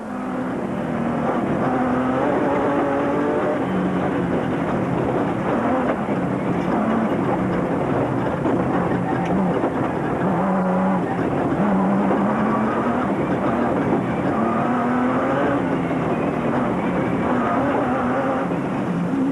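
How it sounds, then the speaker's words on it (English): Off-road race cars and trucks, including a Nissan Hardbody, compete in the 2004 Carnival City 400 in South Africa, producing a continuous, loud engine drone that holds steadily without breaks. "Grobler and Leek were still leading the production vehicle category in the proudly South African Nissan Hardbody"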